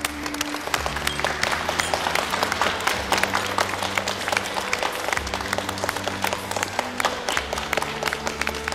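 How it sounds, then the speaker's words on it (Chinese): At a formal dance gathering, a crowd claps for two people about to take the floor, with brisk scattered claps over steady background music. "给他们鼓掌"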